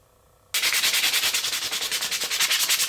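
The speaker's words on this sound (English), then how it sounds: "give the entire thing a really good sanding" Sandpaper rubs hard and steadily over a handmade riveted windshield scraper to round off its edges, a close, loud rasping in quick repeated strokes that begins abruptly after a brief quiet moment.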